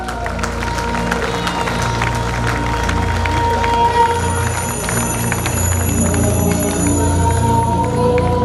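Steady crowd applause at a Dr. Ambedkar Jayanti celebration, continuous clapping blended with music tones and murmuring audience, moderately loud throughout.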